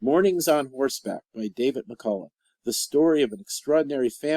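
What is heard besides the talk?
No everyday noises stand out.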